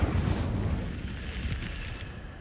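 The Incendio fire spell cast in Hogwarts Legacy, a loud, rumbling burst of flame that roars up at once and slowly thins away, heavy in the low end, with no talking over it.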